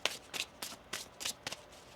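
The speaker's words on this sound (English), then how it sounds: "One more shuffle." A deck of tarot cards is shuffled in a quiet room, giving six or seven quick riffling bursts in an even rhythm, soft and close, with no voices.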